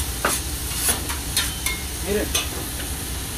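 Homemade hamburger patties sizzle and hiss steadily on a hot cooking surface, with a few scraping clicks from a utensil and a short word spoken over the frying.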